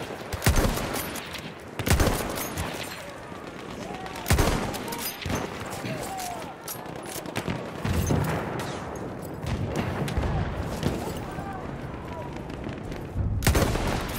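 Gunfire fills a Battlefield 1 firefight with sharp, scattered rifle and machine-gun shots, some loud and close, others distant, over a constant din of battle while voices speak intermittently.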